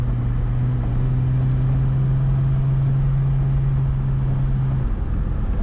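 An AMC Eagle with a Lokar shift cable on its TorqueFlite automatic drives along, a steady loud engine drone with a sustained low hum that drops off near the end as it shifts into third gear.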